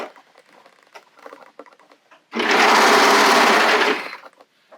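A sewing machine stitches picot elastic onto a bodysuit in one loud, steady run of about two seconds, which follows softer tapping and handling of the fabric.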